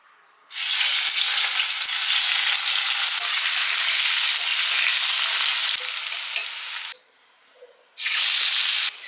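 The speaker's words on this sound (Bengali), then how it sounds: "এঁচোড় চিংড়ি আর আলু ফ্রাই করা হয়ে গেছে, পেঁয়াজ ভাজা চলছে" Onions frying in a pan in a home kitchen, a loud steady sizzle that runs for several seconds, drops away briefly, then returns just as strong.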